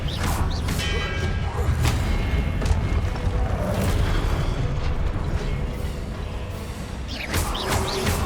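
Hogwarts Legacy's fiery Confringo spell erupts in gameplay as a dense, continuous roar of blasts and whooshes, loud and rumbling throughout with a few crackling bursts.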